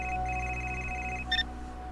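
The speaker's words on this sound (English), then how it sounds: "Oh, another phone call." A phone rings in the video game Gray Matter, a faint, repeating electronic trill over a steady low hum, with a brief brighter chirp near the end.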